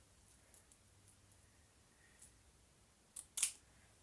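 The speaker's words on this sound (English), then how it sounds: "then I'm just gonna cut a little bit more closer to the hair" Scissors snip wig lace close to the hairline with faint, sparse clicks, then two louder, sharper cuts near the end against an otherwise quiet background.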